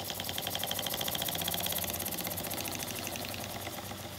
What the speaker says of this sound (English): make it go fast. Throttle it down to a nice speed.